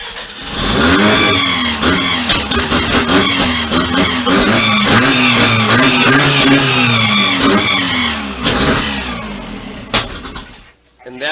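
A 1990 Mazda RX-7 FC rotary engine cranks, fires and revs hard for about nine seconds, loud and close, with rising and falling rasping pitch before it cuts out abruptly near the end.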